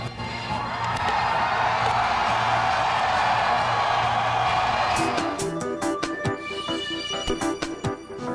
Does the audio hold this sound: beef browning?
no